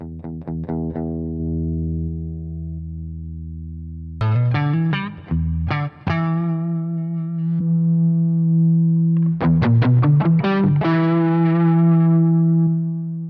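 Electric guitar through a BOSS ME-90 multi-effects unit, with a slightly overdriven, chorused tone playing sustained notes and quick melodic runs, with a touch of echo and no talking.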